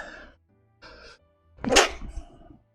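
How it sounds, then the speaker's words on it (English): A single forceful sneeze from a character in the farming sim My Time at Portia bursts out loudly after two short game sounds, close and alone with no talk. "That was a strong sneeze."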